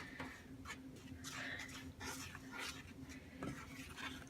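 Brownie batter with chili powder is stirred in a bowl, giving a quiet, continuous scraping and swishing with soft rhythmic strokes, close but low in level.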